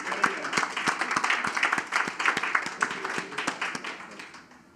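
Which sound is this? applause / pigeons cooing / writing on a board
applause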